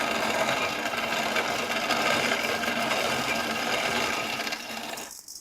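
A grain mill crushes malted barley for brewing beer with a steady, dense grinding rattle lasting several seconds, then stops abruptly near the end, close and without talk.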